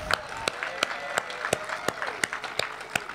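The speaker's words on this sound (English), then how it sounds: "Let's give a round of applause for all our storytellers tonight." A scattered crowd applauds storytellers at an evening campfire storytelling event, with several distinct sharp claps standing out over a faint, thin patter and a background murmur, moderately distant.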